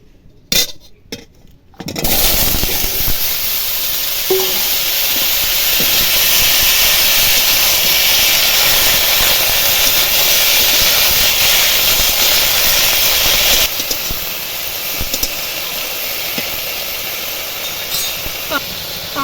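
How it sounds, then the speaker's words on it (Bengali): A loud, continuous sizzle erupts suddenly after a few soft clicks and keeps hissing steadily as vegetables fry hot in a little oil in a wok. "কড়াইয়ের মধ্যে অল্প তেল দিয়ে দিয়েছি এবার এই সবজিগুলো ভেজে নেব"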